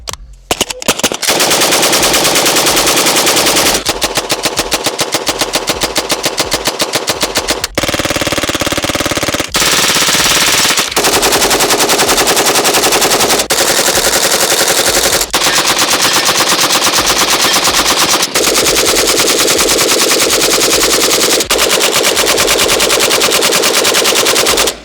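An RPK 74 light machine gun fires loud, close bursts outdoors, long rapid strings of shots broken by short pauses, repeated over and over without talk.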